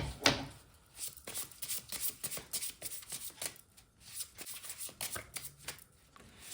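Tarot cards are handled, shuffled and laid down during a candle wax tarot reading, a steady stream of soft close paper rustles and light flicks with a few sharper slaps, quiet throughout.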